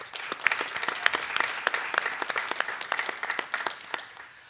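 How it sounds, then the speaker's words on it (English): Audience applause at a university venture competition, a crowd clapping steadily and fairly close throughout, without speech. "let's give Mike an additional round of applause for that support."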